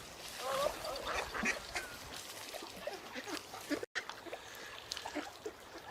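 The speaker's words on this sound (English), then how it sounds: "it looks like the ducks are bringing me bits" Ducks quack repeatedly close by on a riverbank while being fed, with scattered bird calls and a faint voice now and then.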